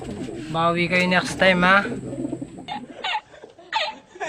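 Racing pigeons returning to the loft during a derby in Balaoan, La Union, give soft cooing calls close by, mixed with people talking and laughing nearby.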